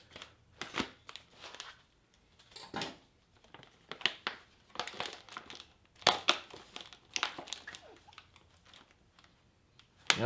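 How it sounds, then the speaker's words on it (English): A knife cuts open a Russian Sturm IRP ration pouch, producing quiet intermittent crinkling plastic and scraping snips close by, with irregular bursts and pauses. "this does not have a tear notch, so get my knife"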